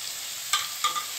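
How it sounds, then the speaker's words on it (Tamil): Tomato and ginger garlic paste sauté in a pan with a steady, close sizzle, broken by two quick stirring scrapes. "இந்த தக்காளியெல்லாம் தெரியாத அளவுக்கு நல்லா மசிய வணக்கிக்கலாம்."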